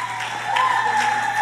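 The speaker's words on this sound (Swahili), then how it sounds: "Makofi." A gathering breaks into applause, a brief burst of many hands clapping under a sustained tonal voice or hum.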